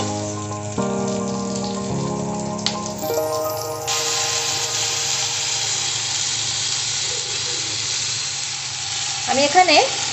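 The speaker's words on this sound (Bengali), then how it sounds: "পেঁয়াজটা একটু ভাজা ভাজা করে নেব" Sliced onion sizzles in hot oil after a kalonji tempering, a steady broadband frying hiss that fills the clip, with some tonal background music early on and a brief clatter near the end.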